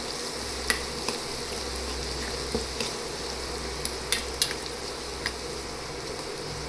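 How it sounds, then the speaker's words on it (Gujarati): Garlic sizzling in hot oil in a pan while making garlic chutney: a steady, close, hissing crackle that runs throughout, with a few faint utensil ticks and no talking. "લસણને આપણે થોડી વાર માટે તેલમાં તતડવા દઈશું."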